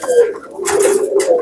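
A Pakistani teddy pigeon chick coos nearby in a soft, throaty, repeated rolling call that runs continuously, with no talk.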